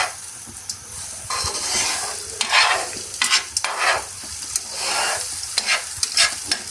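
French toast, bread slices soaked in milk and coated with egg, sizzles and crackles steadily in a pan, with louder bursts as the slices shift, no voices.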